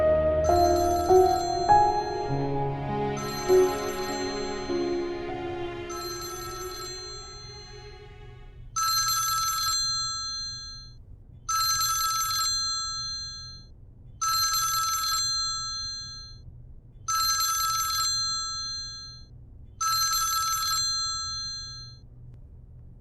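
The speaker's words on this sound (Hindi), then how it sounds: "फोन बज रहा है किसी का।" A telephone ringtone plays on its own for over twenty seconds, a melodic opening phrase followed by five evenly spaced bright electronic rings with short pauses between, at moderate volume.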